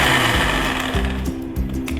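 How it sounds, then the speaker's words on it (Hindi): A kitchen spice blender whirs steadily, grinding a homemade hair mask into a smooth paste, its motor pitch dipping and rising in short pulses, loud and close with no talk. "जो मसाला बनाने वाला हमारा ब्लेंडर होता है उसमें करेंगे आप इस मास्क को ब्लेंड"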